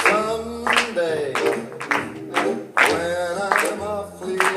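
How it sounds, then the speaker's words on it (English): Hands clap along in a steady beat over a jazz song with piano and bass, the claps mid-loud and evenly spaced beneath the music. "Ready, clap along with me"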